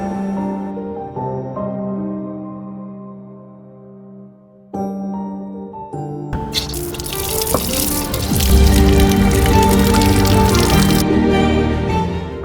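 Water gushes loudly from a tap pipe after a stretch of soft tonal music, the splashing flow steady for several seconds before easing as music continues.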